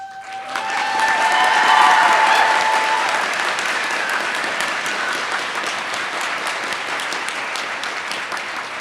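A large crowd at a community college commencement ceremony breaks into loud, sustained applause. A brief tonal sound rings out near the start, and then the wide wash of clapping carries on steadily.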